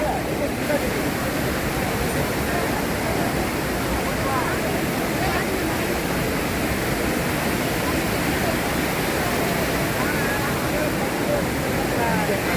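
Water pouring down the Courtallam waterfalls, a dense, continuous roar of falling water that stays loud and unchanging from start to finish.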